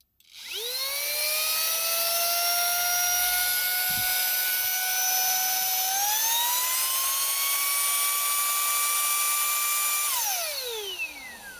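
A handheld car vacuum cleaner, a Polestar 2 accessory, whines at a high pitch, spinning up quickly, holding steady, rising slightly in pitch midway, then winding down after about ten seconds.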